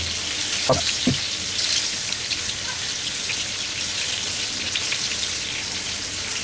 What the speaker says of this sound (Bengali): আবার একবার উল্টে দিব একটু পোড়া পোড়া করে বেগুন ভাজার মতো এই দেখেন পোড়া পোড়া হয়ে হচ্ছে এইভাবে ভাজব